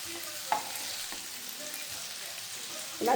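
Fish pieces frying in a pan give a continuous close sizzle with a couple of brief scraping clicks from turning. No one is talking.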